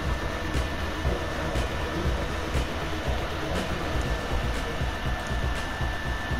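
A train in the Gang Beasts video game rolls along steadily, a loud, constant rumbling roar with faint periodic clanks and no voices.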